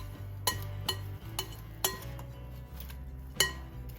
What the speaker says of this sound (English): Into this, we're going to place our chopped nuts and the slivered ones. Go ahead and toss that together.